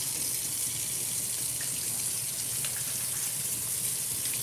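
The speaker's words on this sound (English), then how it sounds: "we should wash our hands because I promised we were going to do that" Water runs steadily from a kitchen tap into a sink during handwashing, a constant hissing gush with light splashes, moderately quiet and close, with no talking.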